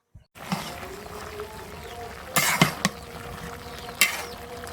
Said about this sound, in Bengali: নেড়ে চেড়ে দিয়ে আবার ঢেকে দিলাম।